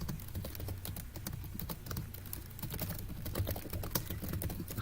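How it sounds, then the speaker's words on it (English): Fast, heavy typing on a computer keyboard, a dense continuous clatter of keystrokes heard up close throughout, with no talking. "Who is typing like that?"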